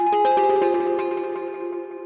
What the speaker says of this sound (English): So then the last sound here is this little FM lead